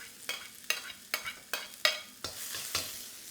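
Ginger and spring onion ends hit smoking hot oil in a stir-fry pan, giving short loud sizzling bursts roughly every half second as they are tossed, each fading quickly before the next.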